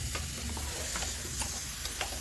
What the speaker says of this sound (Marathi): आपली बिर्याणीचं सगळं साहित्य मी ते दिले फोडणी